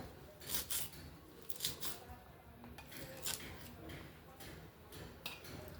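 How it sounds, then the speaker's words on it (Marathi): Close, irregular crisp cutting strokes as taro leaves are finely chopped, bursts of blade sounds over a soft background hiss. "असंच आता हे बारीक एकदम बारीक कट करून घ्यायचे पानं आपल्याला"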